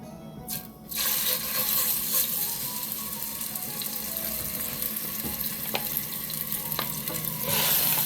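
Meat sizzling and frying in hot oil in a home kitchen while cooking Trinidad-style plantain pie, a steady loud crackle with occasional stirring clinks, no talking.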